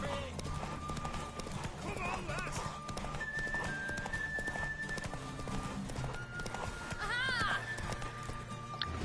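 A horse gallops in The Witcher 3 with rapid clip-clop hoofbeats, a whinny and in-game sounds, all under steady talk.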